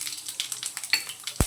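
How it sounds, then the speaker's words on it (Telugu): Tempering seeds crackle and pop in hot oil in a bowl, a near, bright sizzle with scattered quick spatters and a sharp tap of a utensil against the bowl near the end. "అదే బౌల్లోకి ఆయిల్ అయితే వేసేసుకొని తాలింపు గింజలు వేసుకొని"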